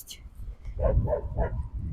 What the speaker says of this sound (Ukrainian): Люди живуть, собаки гавкають.